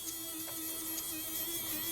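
Electric toothbrush buzzing against the dusty power switch of a Nintendo N64 console, a thin steady electric hum at constant level, close and alone without speech.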